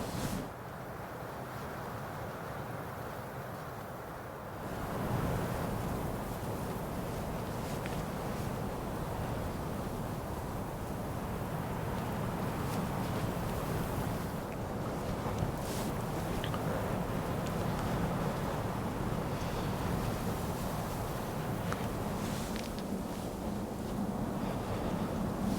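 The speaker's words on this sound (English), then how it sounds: "It's windy as all get up right now" Strong, freezing late-season wind gusts in North Dakota roaring against the microphone, a steady low rumble that swells louder after a few seconds and keeps blowing without pause.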